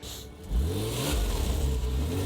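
Porsche Boxster S with a 3.2-litre flat-six engine accelerating hard, a loud rising engine note that climbs, shifts and climbs again, close and with no talk over it.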